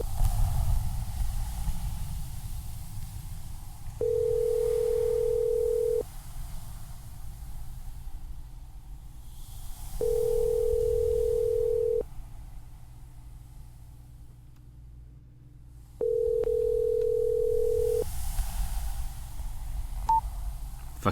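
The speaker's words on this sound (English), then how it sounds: "I gently press the call button and return the phone to my ear." A phone's ringback tone sounds while a call waits to connect: three steady, even beeps about two seconds long, spaced several seconds apart, over a constant low background hiss and rumble.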